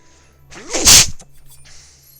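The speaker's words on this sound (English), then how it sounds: "Bit of a sneeze there" A single loud, sharp sneeze bursts out close to the microphone, preceded by a short inhale, with quiet room tone around it.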